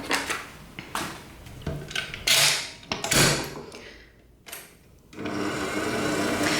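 A large electric mixer beats butter for buttercream in a bowl, giving close whirring and clattering bursts that rise and fall, then settle into a steady churn.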